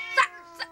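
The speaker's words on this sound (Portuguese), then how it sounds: "Gatos?" Two short cat yowls in a Simpsons cartoon, the first at the start and the second near the end, harmonic and whiny over a faint steady tone, close and fairly loud.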